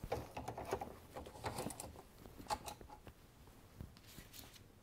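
An embroidery frame clicks and rattles as it is fitted onto an embroidery machine, a quiet cluster of close plastic and metal taps and creaks with no talking.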